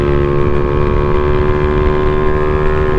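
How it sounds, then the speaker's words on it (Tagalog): A motorcycle engine drones steadily at high revs on a road ride in Amadeo, Cavite, loud and close with constant harmonic whine and no talk. "Try nating hatawin ang ating motor."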